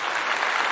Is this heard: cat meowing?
no